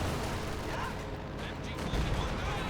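Katyusha rocket barrage in the Company of Heroes 2 game, a dense continuous rumble of rocket launches and impacts with a heavier burst near the end, under commentary voices.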